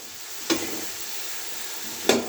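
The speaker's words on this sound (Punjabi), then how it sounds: "ਇਹ ਦੇਖੋ ਅਸੀਂ ਇਹਨੂੰ ਚੰਗੀ ਤਰ੍ਹਾਂ ਹਿਲਾ ਲਿਆ" Cauliflower and pea curry cooking in a pan, a low continuous sizzle broken by two sharp scraping stirs of a spoon, close, with no talking.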